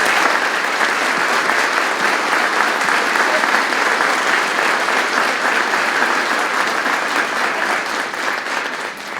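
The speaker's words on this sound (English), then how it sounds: "Please join me in a round of applause to the Ludlow High School Chorus and Mr. Henry for an outstanding job." An audience at a Veterans Day ceremony applauds a high school chorus with dense, steady clapping. It stays loud and even for about nine seconds, then fades slightly at the end.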